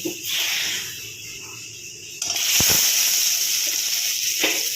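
Fish, kathla, frying in a pan in a Bengali kitchen, a steady loud sizzle and hiss that jumps louder partway through, with a few sharp crackles and pops, no voices.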